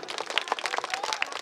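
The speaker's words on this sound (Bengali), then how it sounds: "জোরে হাততালি।" Brief burst of dense audience clapping at a Pohela Boishakh Ganesh Puja cultural program put on by a local club, following a devotional song; steady, moderately faint patter of many hands.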